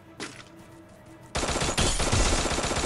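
Video game gunfire: a short early burst, then after a quiet gap a loud, sustained stream of rapid automatic shots that continues to the end, with no talking.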